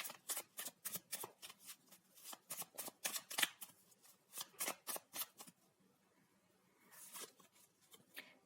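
Tarot cards riffled and shuffled in a long run of quick crisp flicks, fairly close and loud, pausing briefly before a final burst; no talking.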